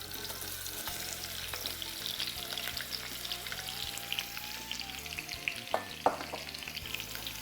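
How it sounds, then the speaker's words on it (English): Sliced onions frying in hot oil give a continuous crackling sizzle, steady and close, with a few sharper pops and stirring clatters near the end and no talking. "Our oil is hot. We'll add some onions."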